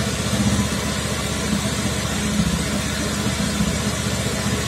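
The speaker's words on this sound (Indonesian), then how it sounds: "Putaran mesin ini di angka 1800-an." A car engine held steady at about 1800 rpm, a continuous even hum with a low rhythmic pulse, close and constant with no voices.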